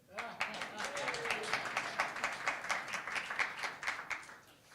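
Scattered audience clapping at a college affiliation lecture at St. Paul's College, a quick run of distinct claps at moderate distance, fairly faint and uneven, with a voice speaking over part of it.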